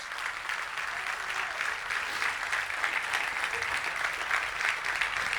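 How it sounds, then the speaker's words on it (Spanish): A church congregation gives a strong, sustained round of applause during a Spanish-language sermon, a steady, dense wash of clapping that holds evenly from start to finish with no talk over it. "Denle un fuerte aplauso a Dios"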